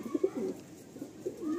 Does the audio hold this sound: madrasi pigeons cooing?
yes